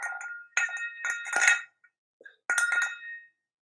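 Ice clinking against the sides of a crystal whiskey glass, bright ringing chimes in three short bursts with brief silent gaps between, close and clear with no speech.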